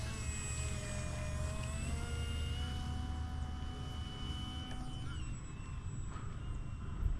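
A small UMX Cirrus SR22T model airplane coming in to land, its faint electric motor whine holding steady, then shifting pitch as it floats in, over low wind noise outdoors.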